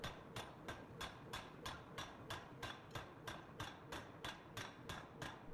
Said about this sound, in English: Once heated, the materials are shaped under high pressure with hammers or presses, resulting in strong, durable components.